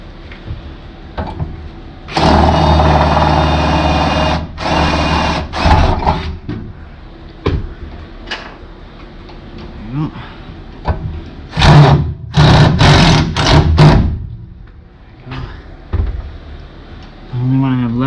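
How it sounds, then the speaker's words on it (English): A power drill bores into the metal frame of a bus under conversion, giving several short bursts of loud whirring and grinding spread across the clip, with people talking in between. "I need to drill this guy"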